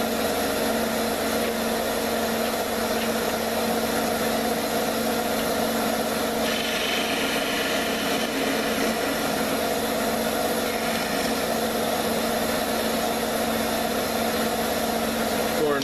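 A wood lathe spins a wooden pull-string top, giving a steady, continuous mechanical hum and whir at even loudness throughout, with a brief brighter scraping stretch partway through as the piece is worked.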